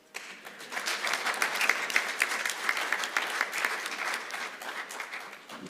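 An audience at an engineering week session claps in a steady, dense burst of applause that fades in, holds and eases off, with no voices over it.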